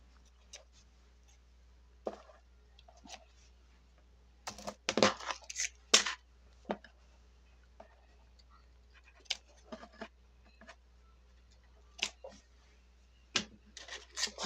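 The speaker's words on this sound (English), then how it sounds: "We'll cut our strings off." Scissors snipping thread strings off a freshly sewn fabric jar gripper, a series of short, quiet cuts and rustles spaced irregularly, with a busier cluster of snips in the middle.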